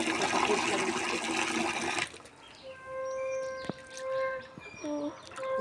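Fish being washed under running water: a loud, close rush of splashing water for about two seconds, after which it cuts off, leaving quiet background with birds chirping.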